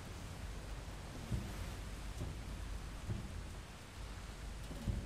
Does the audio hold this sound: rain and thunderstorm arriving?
yes